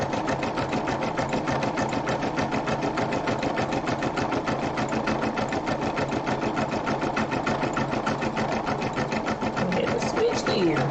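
An embroidery machine stitches out a rope bowl with a fast, even, rhythmic mechanical chatter that stays loud and close and runs without pause the whole time.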